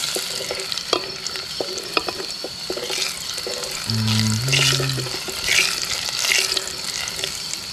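Small chopped shallots fry in oil with a close crackling sizzle and frequent stirring clatter, while faint running water and a brief tonal hum sound in the background.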